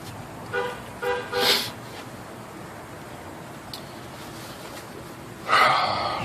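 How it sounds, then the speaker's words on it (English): A car horn honks in a workshop, with a short series of tooted blasts near the start and one longer, louder honk at the end, set against low background noise. "Reacting with horn honks."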